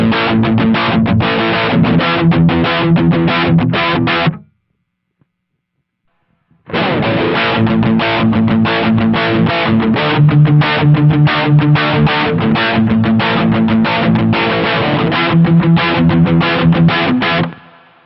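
Electric guitar played through a Hotone Mojo Attack amp and cabinet simulator with the reverb switched off, a loud distorted dry riff of chugging chords, cut off abruptly midway, then after a short silence resuming and ringing out.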